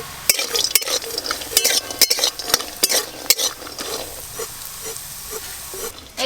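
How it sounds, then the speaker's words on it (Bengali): Homemade khesari lentil bori fry in hot mustard oil, with repeated metal spoon clinks and scraping stirs against the pan over a soft, steady sizzle. "তেল গরম হয়ে গেছে, বড়ি ভেজে নেব"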